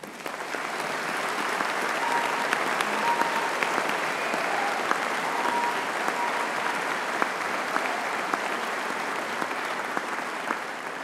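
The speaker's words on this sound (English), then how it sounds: "Please join me in giving them a warm round of applause." Steady, sustained applause from an audience for the Birmingham Conservatoire musicians at a graduation ceremony, an even wash of clapping lasting the full stretch with no voices over it.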